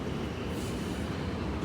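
A London Underground tube train rumbles through a station, with a dense, continuous low roar of rolling wheels close by and no talking.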